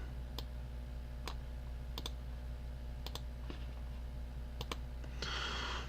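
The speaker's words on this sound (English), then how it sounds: "click the select button" Computer mouse clicking while working in Tormach CNC software, a handful of sharp, isolated clicks, some in quick pairs, over a steady low electrical hum, followed by a brief soft rustle near the end.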